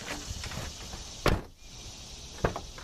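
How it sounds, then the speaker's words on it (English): A Nissan 350Z door shuts twice with solid thuds, the first louder and the second a little over a second later, against quiet background noise. "I'm going to give you guys an example of the door closing"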